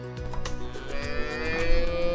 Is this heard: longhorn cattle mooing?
yes